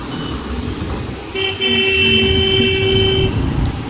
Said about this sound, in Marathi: हॉर्न बक बक बक बक